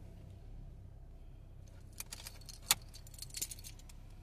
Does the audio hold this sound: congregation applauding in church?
no